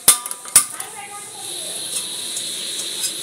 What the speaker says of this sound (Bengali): কড়াইটা বসাচ্ছি।